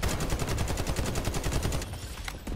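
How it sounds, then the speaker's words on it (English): Rapid bursts of automatic gunfire in a shooter video game, loud and close, a steady rattling stream of shots that thins out near the end, with no talking over it. "Firing some bullets in."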